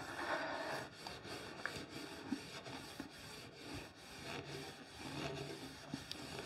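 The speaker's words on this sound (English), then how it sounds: "So we're really just buffing out those nibs" Light hand sanding and buffing over the finish of an antique 1880 signed walnut washstand, a soft continuous rubbing with rhythmic back-and-forth strokes, close and quiet, with no voices.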